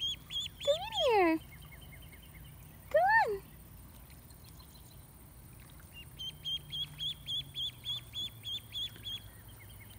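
Ducks call alongside a lone duckling: two loud, sweeping cries early on, then a quick, regular run of high peeps, close and clear over faint background noise.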